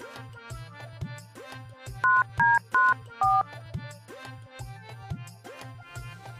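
Four short, loud electronic telephone keypad beeps sound one after another as someone calls a bank, standing out over rhythmic background music.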